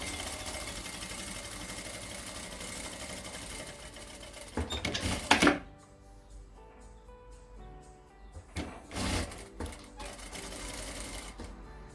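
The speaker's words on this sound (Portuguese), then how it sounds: "E agora eu vou passar uma costura aqui e outra no outro lado." A sewing machine stitches a seam on a fabric wallet, running in a steady mechanical whir for several seconds before pausing, then a short burst starts and stops again nearby.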